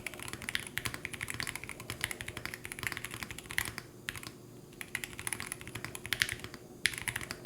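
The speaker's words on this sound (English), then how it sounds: "standard typing has been really great on this keyboard" Steady typing on a Keychron Q1 HE keyboard with pre-lubed linear Nebula switches, a dense run of close, crisp keystroke clacks with brief pauses, no voices.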